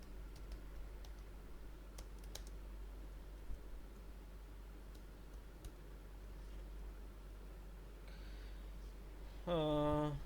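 Quiet, steady keystrokes on a computer keyboard while entering code, faint against a constant background hiss, with a brief tonal chime near the end.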